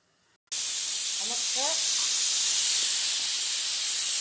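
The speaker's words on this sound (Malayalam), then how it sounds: "അഞ്ച് വിസിലായി നമുക്ക് കുക്കർ ഇറക്കാം" A pressure cooker on the stove vents steam while sambar cooks, a loud, steady hiss that bursts on abruptly and holds, with faint tonal chirps near the start, close up and without speech.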